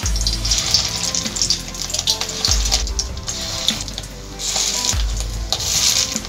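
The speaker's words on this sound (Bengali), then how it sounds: "বড়াগুলো আমি একইভাবে ভেজে নিচ্ছি।" Fish roe fritters fry in hot oil, giving a continuous bubbling sizzle with periodic low clunks and scrapes from turning them, close by and without speech.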